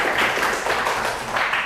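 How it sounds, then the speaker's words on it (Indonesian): A class of students applauds during a physical education lesson, a dense, steady wash of clapping that stays fairly loud and even for the whole short stretch with no clear pauses. "tepuk tangan dulu buat kita semuanya ya"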